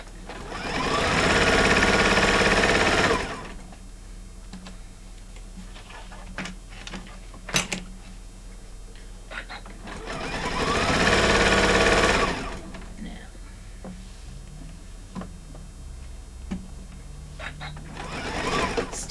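A sewing machine stitching over a zipper runs in two loud, fast whirring bursts of a few seconds each, separated by quieter handling clicks, with someone talking in between.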